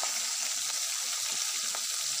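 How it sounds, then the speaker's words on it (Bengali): Steady, even sizzling of garlic and green chili frying in hot oil, a constant crackling hiss with no voices. "এবার রসুন ভাজা হয়ে যাচ্ছে এবার আমি লঙ্কা কাঁচা লঙ্কাটা দিলাম"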